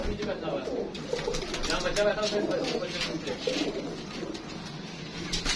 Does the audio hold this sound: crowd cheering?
no